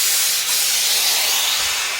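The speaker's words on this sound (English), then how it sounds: "just get rid of the steam out of it" A steam iron lets out a loud, continuous hiss of released steam that holds steady and close throughout, with no talking.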